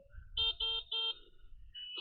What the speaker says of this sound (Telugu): హారన్ కామెడీగా ఉంది